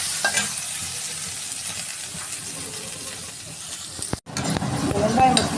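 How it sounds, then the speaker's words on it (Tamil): Mint leaves sautéed in a hot pan, a steady soft sizzle and hiss with scraping stirring strokes, briefly cut off near the end before a louder clatter of stirring resumes. "புதினாவை வதக்கணும்"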